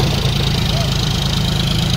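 Two John Deere 5036 tractors run side by side in a slow race, their diesel engines holding a steady, loud low rumble at near-idle throughout, with faint wind and some background voices.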